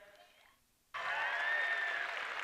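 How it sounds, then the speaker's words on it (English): Audience at an FTC Iowa robotics championship bursts into loud, sustained applause after a brief quieter stretch of murmur, the clapping holding steady and close throughout. "giving our teams a big round of applause"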